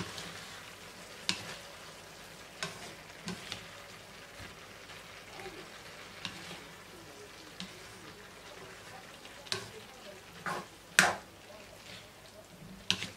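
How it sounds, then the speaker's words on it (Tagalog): Beans with ground pork and beef stirred in a pan while they fry, a soft steady sizzle with scattered scraping knocks of the spoon against the pan, fairly quiet and close. "Haluin natin."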